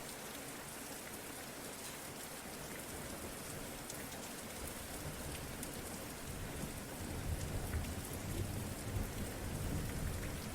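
Steady rain falling on surfaces, a dense hiss throughout with low rumbling thunder swelling toward the end, no voices.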